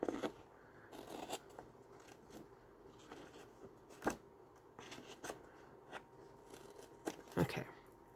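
Scissors cutting sticky quarter-inch tape for a handmade folio, giving soft close snips and crinkly crackles scattered at irregular moments, quiet and sparse against a faint background.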